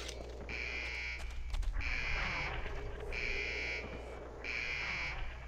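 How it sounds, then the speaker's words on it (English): An alarm blares in the video game Iron Storm, a loud electronic buzzer sounding in four long, evenly spaced bursts over a steady background hum. "Am I gonna set the alarm off everywhere I go?"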